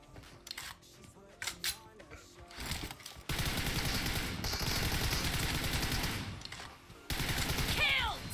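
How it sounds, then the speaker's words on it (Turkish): Gunfire in PUBG Mobile, a team deathmatch: after some scattered clicks and shots, dense sustained bursts of automatic fire roar for several seconds, with a brief pause before more firing resumes. "Abi insan bir mermi atar ya."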